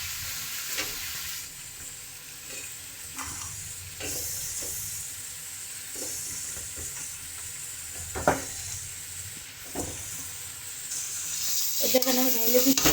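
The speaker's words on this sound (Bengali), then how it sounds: "এখন আমি মশলার ভিতরে এখন দিয়ে দিব। আমি এইটারে ভালো করে কষাই নেব।" Round-cut radish curry sautés with spices in a kadai: a continuous soft sizzle broken by repeated scraping stirs of a spoon, with a brief bit of voice near the end.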